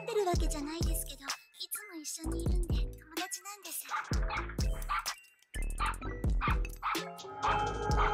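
Dog barking in an anime episode, a run of sharp yips and barks with whimpering pitch slides, loud and close, mixed with dramatic voices and other scene sounds.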